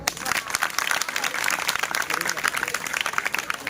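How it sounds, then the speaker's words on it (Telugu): Audience of students clapping at an awareness seminar in a junior college hall in Tandur, dense, steady applause, close and loud, with voices mixed in. "ములగా చప్పట్లు కొట్టండి"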